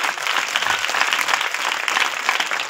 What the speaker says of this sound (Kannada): ಅವ್ರಿಗೆ ಜೋರಾದ ಚಪ್ಪಾಳೆ ಬೇಕು.